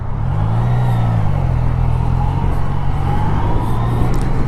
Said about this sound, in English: Acceleration run.